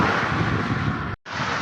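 Strong wind buffets a microphone outdoors, a loud, steady broadband rumble that cuts out abruptly for a moment before resuming.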